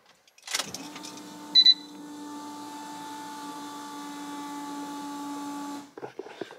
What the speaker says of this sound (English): Listen to my fuel pump.